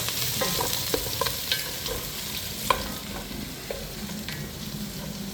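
Ingredients sauté in a pan with a steady, close sizzling hiss throughout, broken by occasional sharp clicks and scrapes of a utensil stirring against the pan; no voices.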